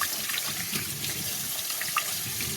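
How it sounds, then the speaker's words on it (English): Steady running water from a tap rinsing out a container to chill it for homemade butter, a constant close splashing stream with no voices. "We're going to rinse that out and get that nice and cool so the butter stays really cold."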